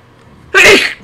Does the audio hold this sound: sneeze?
yes